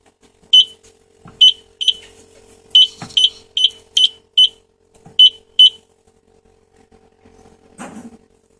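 A detector alarm sounds during a hardware adjustment, sharp high beeps in an irregular series of about a dozen chirps over a quiet steady hum, ending with a soft rustle.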